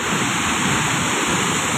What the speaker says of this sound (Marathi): हा सहस्त्रकुंड धबधबा वाहताना दिसत आहे